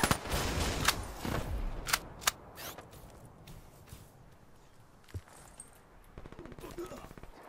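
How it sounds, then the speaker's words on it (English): Gunfire in Black Ops 3 Search and Destroy: a quick cluster of sharp shots opens the scene, then sparse footsteps and a few isolated cracks follow at moderate distance. "Someone's shooting."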